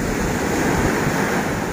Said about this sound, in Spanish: Preciosa se ve aquí esta parte del mar.